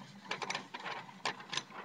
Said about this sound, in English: it would come off a printer something like this